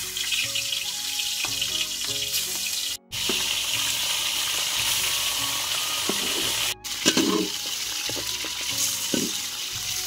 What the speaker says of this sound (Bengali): বন্ধুরা তেল আমাদের গরম হয়ে গিয়েছে, আমরা এখন মাছগুলোকে ভাজার জন্য ছেড়ে দেব।